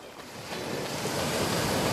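Sea waves washing ashore during a Mindoro motorcycle ride, heard as a steady broadband surf roar that swells slightly over the short stretch, mixed with wind buffeting the microphone.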